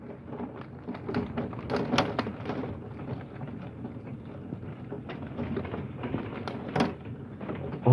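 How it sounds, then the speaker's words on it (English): Marble-sized hail rattles down during a severe thunderstorm along with heavy rain, producing a steady dense roar with scattered sharper impacts throughout. "It's literally hailing."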